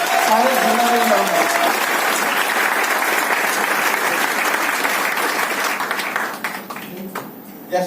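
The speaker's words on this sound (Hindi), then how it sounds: "सारे जिंदा दिल लोग अपने लिए एक जोरदार ताली बजाएं।" A crowd at a Modicare system training event in Muzaffarpur, Bihar, claps loudly and steadily for several seconds. A voice sounds briefly at the start, and the applause fades out near the end.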